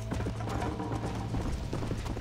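Horse hooves galloping in the video game Red Dead Redemption, a fast, steady run of clip-clop beats over a low rumbling background, close and fairly loud with no talk.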